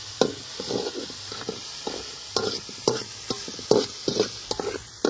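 Food sizzles and fries in a pan over a village cooking fire while a spoon repeatedly scrapes and stirs it, with close, irregular stirring strokes over a steady hiss.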